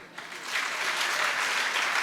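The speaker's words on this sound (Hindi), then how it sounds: "तालियां।" An audience at a Jain sermon breaks into applause, a dense wash of clapping that swells after a quiet start and then holds steady and loud.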